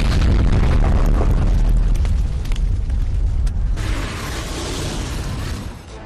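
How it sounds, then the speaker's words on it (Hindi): A loud blast from a Teddy Bear wedding gift rigged to a cable and switched on in a village home, a heavy booming roar with crackling debris that slowly fades into a hissing rumble. "धमाके की आवाज इतनी तेज थी कि करीब 2 किलोमीटर दूर तक सुनाई पड़ी"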